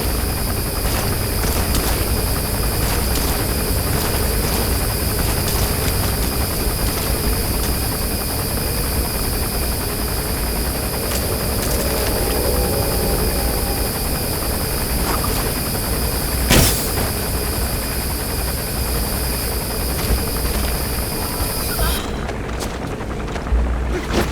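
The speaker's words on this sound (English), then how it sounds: "The chopper will be arriving any minute." A support helicopter arrives in the video game Metal Gear Solid V: The Phantom Pain, its steady rotor drone filling the scene with a constant roar, a sharp thump near the middle, and the sound cutting off near the end.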